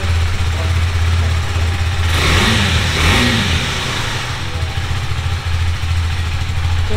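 KTM RC 390 sport motorcycle idling steadily with a deep, continuous exhaust drone, swelling briefly in a couple of throttle blips before settling back, close and loud throughout with no talking.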